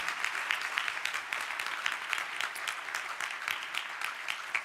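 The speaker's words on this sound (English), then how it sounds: "round of applause. They deserve it." Conference audience at a European research and innovation event breaks into sustained applause, a close, dense and even patter of many hands clapping throughout.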